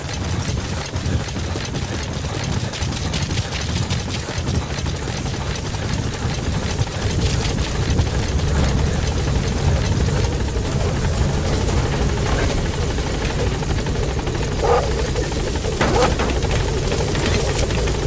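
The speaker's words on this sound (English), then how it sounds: "Support helicopter has arrived." A support helicopter in Metal Gear Solid V roars continuously and loudly throughout, a dense steady rotor and engine drone with no talking.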